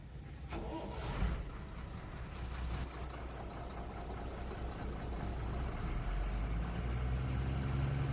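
An Ashok Leyland BS3 truck engine with an accelerator fault cranks and catches, then settles into a steady diesel rumble that builds gradually as it is revved, heard close and alone.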